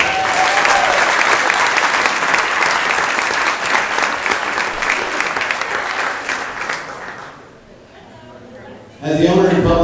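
Audience at a Celebrity Waiters charity event bursts into sustained applause, loud dense clapping that fades out, followed by a voice speaking.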